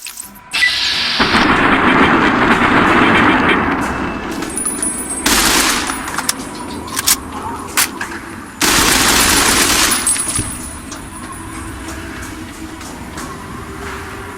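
Assault rifle fire in a Fallout video game, switching between automatic and semi-automatic: loud sustained bursts of rapid shots separated by quieter gaps with scattered single shots, close and dominant with no talking.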